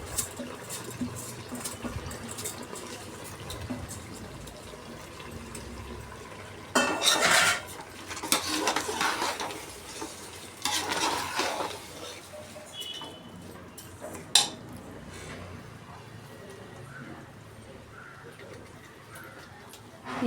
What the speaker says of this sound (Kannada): ಇವಾಗ ನಾನು ಅಕ್ಕಿ ಹಾಕ್ತಾಯಿದ್ದೀನಿ.